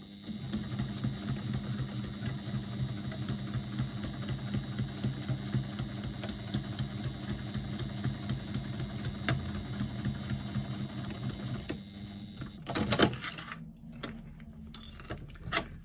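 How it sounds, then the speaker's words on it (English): A sewing machine stitches two faux leather pieces together, its rapid needle ticking running steadily for about twelve seconds before stopping, followed by brief handling rustles. "we're going to stitch across there to secure those two pieces together"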